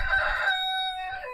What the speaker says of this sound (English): There's Mr. Rooster crowing.